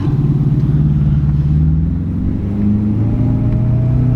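Porsche Panamera Turbo with a new exhaust, a loud, deep, steady engine rumble with a slight dip and recovery, heard alone without talk.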